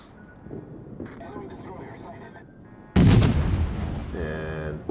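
Warship guns fire at an enemy ship in a naval video game, a sudden loud boom about halfway through that rings out over engine noise, with a voice talking throughout.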